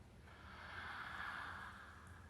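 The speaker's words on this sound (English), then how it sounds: "Let's take another deep breath together" A slow, soft inhale of a deep breath, swelling and fading again, quiet and close with no other sound.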